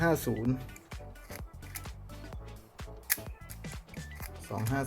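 Clicks from a Rolleicord camera shutter firing at 1/250 s, a series of short, sharp snaps close by in a quiet room. Someone speaks between them.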